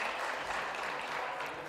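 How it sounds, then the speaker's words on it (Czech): An audience claps continuously throughout, a dense, even patter of applause filling the room at moderate distance. "tak můžeme mu zatleskat."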